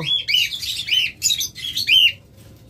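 A pair of lovebirds chirps in quick, bright bursts, close and loud, with short pauses between the calls and no voices.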